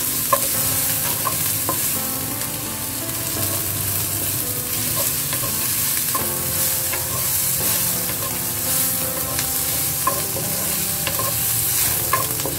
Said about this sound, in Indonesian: Dioseng sampai harum ya teman-teman.